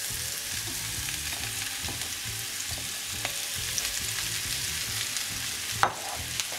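Mushrooms sizzle in a pan with golden garlic and chili, a close, continuous frying hiss broken by the scrape of stirring and one sharper clatter near the end.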